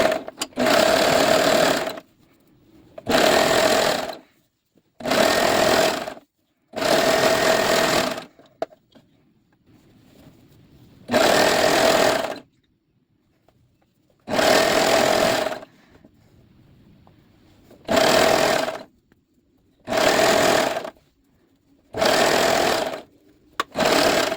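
An overlock sewing machine serges the open seams of a lined A-line skirt, running in about nine loud, steady bursts of one to two seconds each, separated by short pauses of near silence, with no talking.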